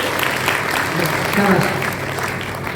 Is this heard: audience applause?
yes